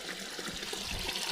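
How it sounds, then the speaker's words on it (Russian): A stream trickles through the Alaskan wilderness, a soft, steady, continuous burble of flowing water heard close by with no voices. "Слышу, вода журчит."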